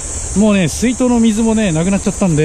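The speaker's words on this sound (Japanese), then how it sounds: "セミの声もすごいけど" Cicadas on a hot, empty summer beach keep up a continuous high buzzing drone in the background while someone talks close by.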